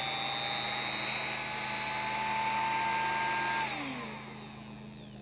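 A small Harbor Freight laminate trim router fitted with an edge-trimming bit runs at high speed nearby, giving a steady, piercing high-pitched whine that then drops in pitch as the motor spins down, with no voices.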